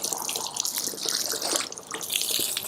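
Water from a hose sheets and streams off the paint of a 2017 C7 Corvette Stingray during a wash, a steady close splashing hiss with no talk.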